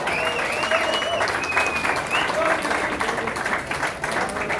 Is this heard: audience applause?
yes